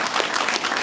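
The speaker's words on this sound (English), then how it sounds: "One more round of applause." Steady audience applause at a closing ceremony, a dense, even wash of clapping from a crowd that carries through the whole short stretch without any speech.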